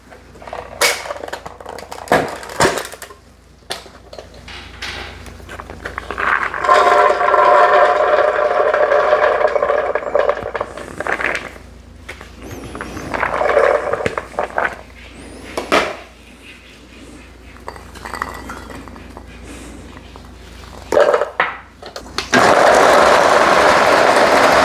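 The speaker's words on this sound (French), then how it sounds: "je vais donc écraser mon arachide" Boiled peanuts cooked with onion and garlic are crushed for eru, giving loud close grinding and scraping passes with clattering knocks and pauses between bursts.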